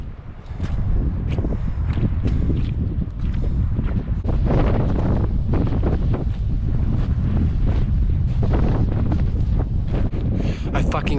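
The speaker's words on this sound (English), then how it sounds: "This wind is fucking freezing." Cold wind blows hard and steadily across a mountain trail, a loud continuous rushing buffet against the microphone with no pause.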